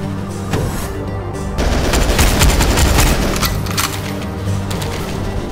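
Dense gunfire in a Goldeneye Source team deathmatch on the Bunker map: rapid, overlapping automatic bursts and shots rattle loudly and continuously.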